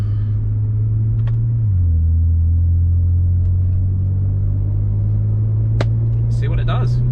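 BMW 335i with an N54 engine and hybrid turbo pulling hard in third gear, a loud steady engine drone that drops in pitch at a shift and then climbs, with wind roar and brief clicks over it.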